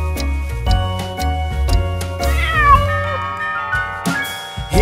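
A cat meows repeatedly in a nursery-rhyme scene with a cat climbing a clock, the meows sitting over a steady musical backing with a loud strike near the end.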